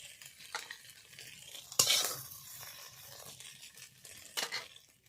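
Soybean chunks fry in a wok for a mixed vegetable dish, heard as a quiet sizzle broken by a sharp scrape of stirring and a few softer rustling stirs.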